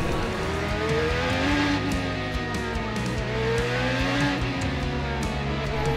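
A James Hinchcliffe IndyCar race car engine screams steadily at high RPM, loud and continuous from onboard, with faint tyre and wind noise.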